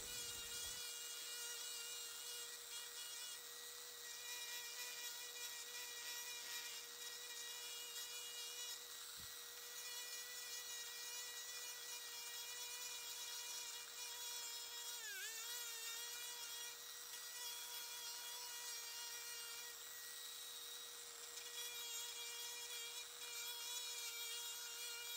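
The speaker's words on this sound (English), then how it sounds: "I cranked up the RPMs max right now, and then you could definitely hear some kind of bearing issue with the Dremel" A Dremel rotary tool runs at maximum RPM while carving a pine knot, a steady high-pitched whine with whistling overtones and a rough bearing noise, loud and continuous with no voice.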